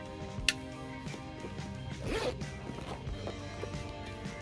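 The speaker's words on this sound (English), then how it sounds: "Okay, yeah, I just use the knife and cut it." Blade slicing through the plastic wrap on a Steam Deck 512 GB package, a quick ripping stroke near 2 seconds after a sharp click, close and fairly quiet with no voices.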